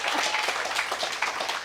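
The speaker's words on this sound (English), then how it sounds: "Go ahead, clap, clap, clap, clap." Steady audience applause at a student education fest event, dense many-handed clapping filling the room at a consistent loudness with no talk over it.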